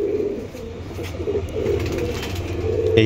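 Pakistani pigeons in a loft coo softly in repeated low phrases, with a faint bustle of the room around them and no talking.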